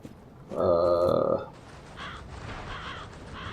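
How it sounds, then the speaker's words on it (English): Crows cawing in Dark Souls 3, one loud harsh caw up close, followed by fainter, scattered calls further off over a steady background. "Crows. Yes, crows."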